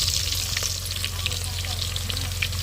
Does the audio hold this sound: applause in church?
no